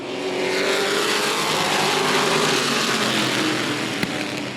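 Race cars accelerating together off a green-flag start into the first turn, a loud sustained engine roar with rising revs from several cars close by, no voices over it.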